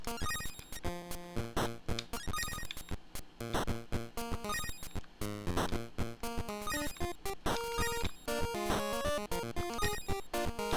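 Bouncy chiptune-style Tetris game music with bright square-wave melodies and punchy percussion, playing continuously at a lively tempo.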